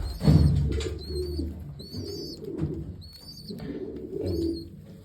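Pigeons coo in low, throaty bursts, repeating every second or so at close range, while high chirps from other birds sound over them.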